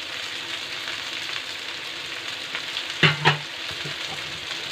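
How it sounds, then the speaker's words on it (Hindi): Green chili, onion and garlic sauté in a pan over a high flame, giving a continuous moderate sizzle with two brief scraping stir strokes near the end and no voices. "थोड़ा सा भून लेंगे, गैस को फ्लेम हाई रखेंगे।"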